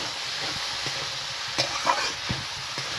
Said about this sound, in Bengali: গাইস এখন এই ঢাকনাটা তুলে নেব, নিয়ে দেখো নাড়াচাড়া করবো।